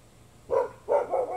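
Dog barks indoors, one sharp bark followed by a quick pair of barks, moderately close and loud over a quiet background.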